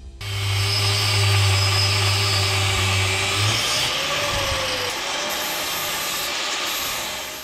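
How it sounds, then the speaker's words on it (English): An angle grinder cuts protruding wheel studs off a Timbren suspension wheel adapter on a squaredrop trailer build, a loud steady high whine with harsh grinding that holds for several seconds, then shifts pitch and eases slightly toward the end. "I used the angle grinder to cut them off, rounded off the top"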